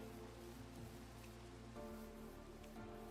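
Steady rain falls in Minecraft, a soft, even hiss with a low rumbling hum beneath it, faint and unbroken throughout.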